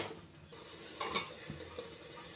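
Curd is stirred into frying biryani masala in a pan, giving soft scraping under a low sizzle, with a few brief metallic clinks near the middle. No one speaks.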